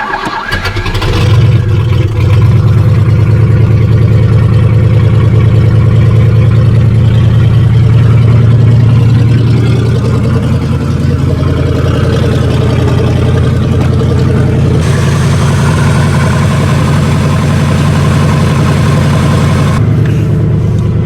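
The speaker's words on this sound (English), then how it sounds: "Gotta love these old school cars where you gotta tap the accelerator to get the revs to come back down" Old muscle car engine cranks and catches, then settles into a loud, steady idle up close with a deep rumbling low end, the revs holding high before easing and shifting later on.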